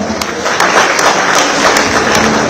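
An audience applauds at the Bengaluru International Film Festival, with dense, loud clapping that carries steadily throughout.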